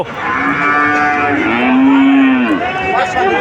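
A cow at a cattle market in Notunhat, Joypurhat lets out a long, loud, close moo that rises and falls, followed by a shorter lowing call.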